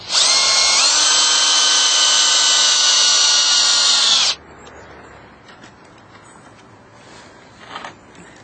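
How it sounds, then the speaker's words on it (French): A power drill drives screws into deck boards, whining loudly and evenly for about four seconds before stopping abruptly. Faint rustling and handling noises follow in the quiet. "Donc on fixe avant puisque après, bien sûr, il sera impossible de visser par-dessous."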